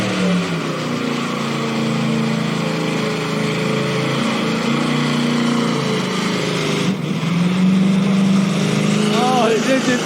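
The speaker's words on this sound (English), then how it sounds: "Oh, his engine's giving up." A FROSTY ice cream truck does a burnout, its engine droning and straining at a high, steady pitch before sagging and then revving back up, loud and continuous with someone shouting excitedly over it.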